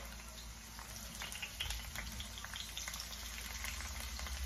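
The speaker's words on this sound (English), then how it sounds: "I'm going to go ahead and add some onions and spring onion in there." Onions and spring onion frying in hot oil for salt fish and okra, a steady dense crackling sizzle close by, with a low hum beneath it.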